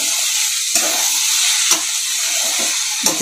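Vegetables and spices sauté in a pan with a continuous close sizzle, while three spaced clinks and scrapes of a spatula stirring cut through the frying.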